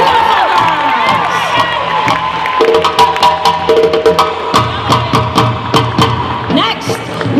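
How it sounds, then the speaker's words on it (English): An audience at a Somali kids' fashion show in Minneapolis cheers and claps loudly and steadily, with whoops and children shouting threaded through the sustained crowd noise. "Please give them another hand of applause to Marian and Amal."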